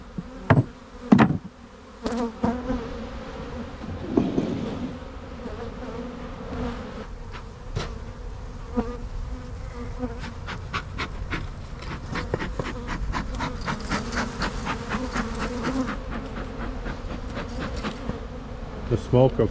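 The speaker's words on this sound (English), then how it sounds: "Now that hive's packed with bees." Honeybees swarming around an open, packed hive, giving a steady close buzz that runs throughout, with occasional knocks and handling thumps over the drone.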